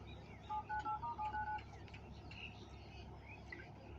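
A mobile phone being dialed to call a mechanic, a quick run of about six short keypad tones in even succession, faint, over a steady low hum with scattered outdoor chirps.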